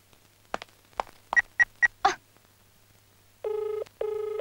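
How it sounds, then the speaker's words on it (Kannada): A phone first plays a quick series of short keypad-like beeps, then gives two sustained electronic ring bursts near the end, clear and close with no talk. "ಇದೇನು ಆನ್ ಮಾಡಿದ ತಕ್ಷಣ ರಿಂಗ್ ಆಗ್ತಿದೆ"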